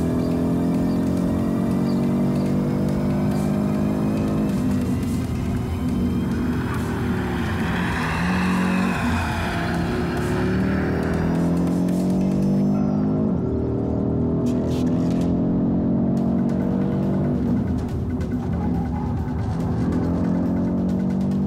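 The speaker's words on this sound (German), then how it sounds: "Der Audi jagt die Gegengerade entlang." Audi RS 3 on a fast track lap down the back straight, a loud continuous engine roar rising and falling with acceleration and gear changes, close and steady with wind noise.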